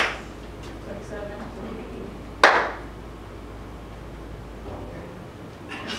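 A single sharp hand clap partway through, marking a count during a group training session, standing alone against a quiet, faintly noisy room.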